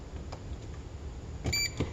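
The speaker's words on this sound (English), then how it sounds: "And then you're going to hear a little beep." A single short electronic beep from a soy milk maker rises briefly above faint, steady background noise.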